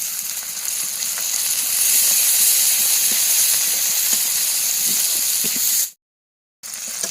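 Chili and turmeric powder sizzle and hiss loudly in a hot pan as water is added, a steady frying crackle that cuts off abruptly near the end before resuming briefly.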